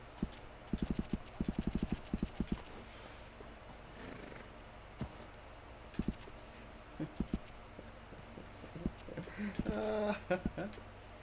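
Horse hooves clip-clop in quick bursts of steps in the video game Red Dead Redemption 2, alongside occasional faint snorts and game ambience, with brief talk in the background.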